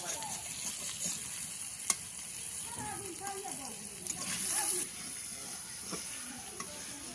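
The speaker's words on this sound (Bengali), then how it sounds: "আলুটা লাল লাল করে ভেজে নিয়েছি।" Potatoes frying in a pan for a village-style Bengali potato and paneer dish, a steady close sizzle with occasional stirring scrapes and faint background voices.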